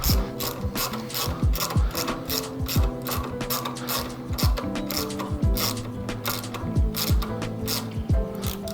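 A 13mm wrench ratchets in quick repeated clicking bursts while tightening a rear wheel bolt on a belt-drive bicycle, the steady mechanical clicks close and distinct with no talking.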